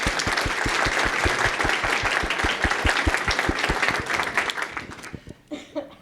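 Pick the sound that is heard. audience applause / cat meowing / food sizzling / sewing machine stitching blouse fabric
audience applause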